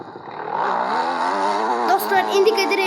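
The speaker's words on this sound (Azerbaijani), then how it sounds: "Dostlar, indi gedirik motorumuzdan." A motorcycle engine hums in a video game, a steady, tonal droning rev that rises slightly over three seconds, loud and continuous.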